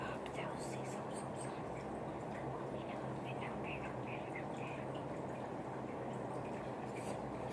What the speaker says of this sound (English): I've actually been letting you hear to that waterfall behind me.